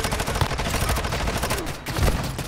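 A Vaznev submachine gun fires in rapid automatic bursts in Warzone Mobile, a loud, dense stream of close shots with a brief gap before another burst.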